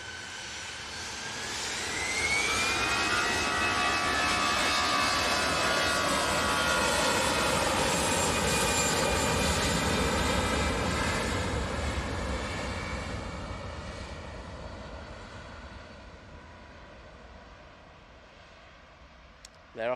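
EasyJet jet airliner on its takeoff roll at Manchester Airport, bound for Belfast: engines spool up with a rising whine, then a loud sustained roar that slowly fades as it climbs away.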